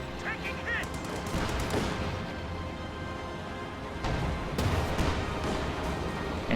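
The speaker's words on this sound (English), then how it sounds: "Anti-tank gun fires at that Stuart, and it will be forced to reposition." Anti-tank gun and mortar fire thunder through a Company of Heroes match, with repeated booming blasts and crackling gunfire layered under continuous commentator talk.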